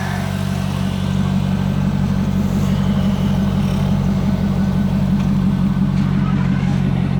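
A 2002 Chevrolet Corvette C5's LS1 V8, fitted with an aftermarket exhaust, runs loud and close with a deep, steady rumble and only slight swells in pitch, while a voice speaks faintly over it.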